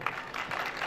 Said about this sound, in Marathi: सर्वांनी जोरदार टाळ्या होऊ द्या.